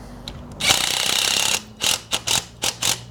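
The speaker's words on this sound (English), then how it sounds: "put your Allen wrench through the front of the bolt." A ratchet wrench or Allen key clicks as a bolt is tightened on a swing frame, with one long burst of ratcheting followed by several short bursts, close and fairly loud.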